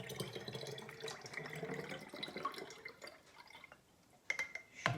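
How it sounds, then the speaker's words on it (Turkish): Şalgam juice being poured from a cup into bottles, with liquid trickling and dripping steadily at close range for several seconds, thinning out and stopping, then a couple of sharp clinks or splashes near the end. "Fincanımla şalgamımı dökmemeye çalışarak şişelerimi dolduruyorum."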